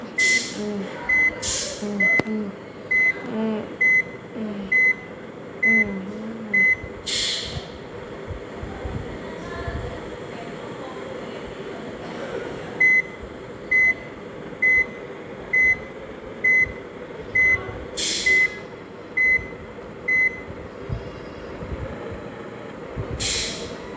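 A vehicle reversing, its reverse alarm emitting a steady series of evenly spaced high beeps in repeated runs over a continuous engine and road rumble, with occasional louder clunks.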